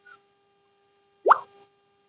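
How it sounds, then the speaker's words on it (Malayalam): Onions are dropped into a cooking pan of garlic and ginger, making a single soft, close plop in an otherwise quiet kitchen, with no one speaking. "അതിലോട്ട് ഉള്ളിട്ട് കൊടുക്കാം."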